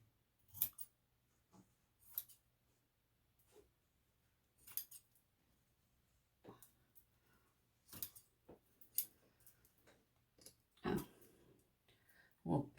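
Scissors snip through fabric while a gored skirt is draped, giving sharp, separate cuts spaced across a quiet room, a few close and crisp, with faint rustling between them.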